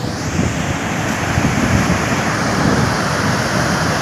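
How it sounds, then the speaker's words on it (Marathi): Monsoon waterfall at Malshej Ghat, a loud, dense and continuous roar of rushing water mixed with wind buffeting the microphone, steady throughout. "बघा धबधबा"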